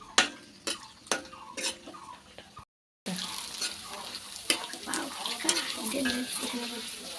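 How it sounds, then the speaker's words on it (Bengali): Fuchka puris drop into hot oil, first with sharp crackling spits and pops, then after a brief silent cut a denser, steady sizzle with frequent crackles close by. "এই যে তেলও গরম হয়ে গেছে আমার, দেখি ফুচকাগুলোকে দিয়ে ভাজি"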